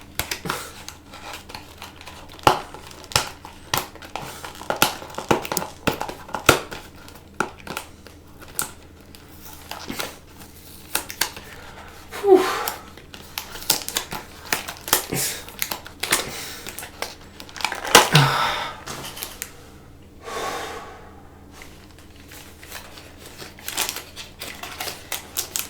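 Plastic product packaging crackles and snaps under struggling hands, with irregular bursts of crinkling, tearing and clicking spread across the whole stretch, close and fairly loud, with no talking.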